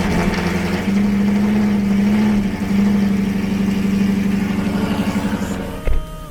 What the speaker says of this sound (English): I'm gonna start the car now.